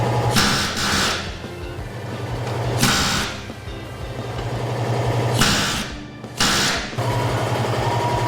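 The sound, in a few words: plasma cutter cutting truck frame rivets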